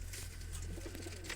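Pigeons cooing close by during a pigeon-keeping session, soft repeated low coos over a steady low hum, with no talk.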